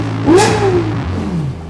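A Lexus LFA engine revs sharply up and back down in a quick surge, close and brief, with a rising then falling whine.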